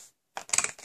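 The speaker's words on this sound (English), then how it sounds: "I'm using my corner punch." Paper corner punch snipping the corner of cardstock for a stamped craft album, a single short crisp clack with a few rattling ticks right after, close and fairly faint.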